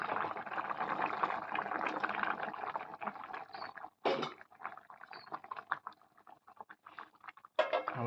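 Chopped tomato goes into a simmering vegetarian bottle gourd curry, with a steady wet sizzle and bubbling that breaks into a few sharper spattering bursts.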